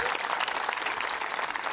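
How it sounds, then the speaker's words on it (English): Tennis crowd at a Bloomfield Hills quarter-final bursts into dense, loud applause after a converted break point, a steady wash of clapping throughout the short stretch. "Big reaction from this Bloomfield Hills crowd, pulling the American back in."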